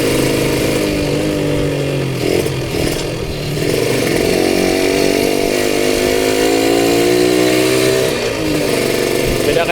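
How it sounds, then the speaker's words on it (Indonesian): A Suzuki Satria two-stroke motorcycle rides through the streets of Tasikmalaya, its loud buzzing engine revving and droning steadily up close, with pitch rising and dipping through gear changes and no speech. "Sambil tes-tes motor juga."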